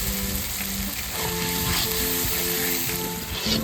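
Ginger paste added to garlic paste frying in a pan, a dense continuous sizzle held close, steady throughout, with a faint tonal hum running underneath.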